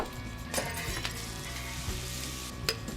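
Bananas cook in a pan of butter and brown sugar for a flambé, giving a steady close sizzle with a few sharp clinks of a utensil against the pan.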